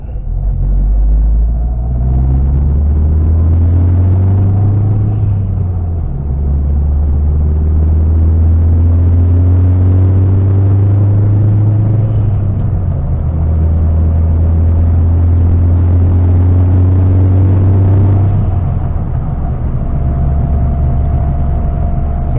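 A boosted SAAB car engine, tuned on the road to 500 horsepower, pulls loudly through repeated rising revs and gear changes on its first drive, with a constant road rumble beneath.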